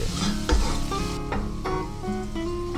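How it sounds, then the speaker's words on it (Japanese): Powdered spices sizzle and hiss in a pan while being stir-fried for a South Indian Goa prawn curry, a loud continuous frying crackle with scraping stirring strokes and no talking. "このジャーってこうビチャビチャーってなってるやつが飛ぶぐらいまで炒めましょう"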